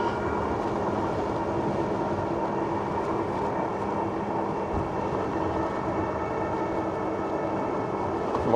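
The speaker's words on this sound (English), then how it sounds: "Very strong, very powerful motor." Wired Cruiser electric bike motor running with a new controller, a steady loud whine and hum with rumbling noise holding constant throughout, no voices.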